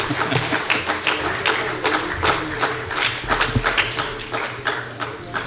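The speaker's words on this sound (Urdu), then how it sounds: "اس پر بھی تالیاں بجائی جا سکتی ہیں اگر آپ کا موڈ ہو." Scattered audience clapping at a book launch ceremony, with uneven, fairly close claps across the whole stretch and a murmur of voices beneath.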